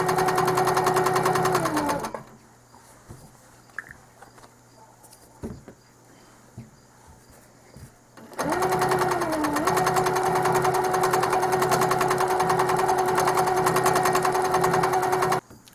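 A Handi Quilter longarm quilting machine stitches a Christmas quilt placemat, its steady motor hum and rapid needle patter running loud, pausing for several seconds amid faint handling clicks, then resuming at full speed.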